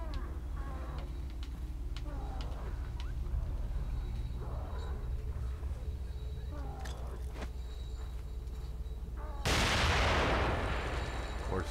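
A grenade goes off in The Evil Within on Xbox One: low, rumbling game ambience with scattered small knocks, then one loud, sudden, broadband explosion near the end that rings out for a couple of seconds.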